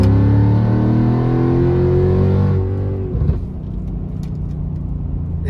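A car running an MK ULTRA SLR tune holds a loud, steady engine drone with strong harmonic bands that sweep upward, then the tone drops away into a lower road rumble as the throttle eases, heard from inside the cabin.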